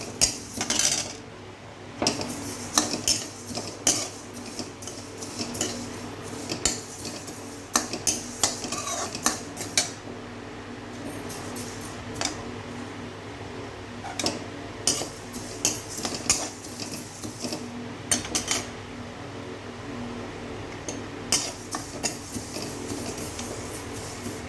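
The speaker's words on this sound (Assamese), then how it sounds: "এতিয়া মই মছলাখিনি ভজা হোৱালৈকে ভাজিম।" Spices are fried and stirred in a pan for mango pickle, with a spoon scraping and clicking against the metal in a quiet, irregular rhythm of light taps.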